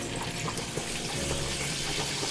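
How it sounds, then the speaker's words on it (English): Pasta water poured into a pan of garlic for spaghetti aglio e olio, a steady close sizzle and splash lasting the whole moment with no talk. "You can add a little bit of pasta water if you don't want to make your garlic burn"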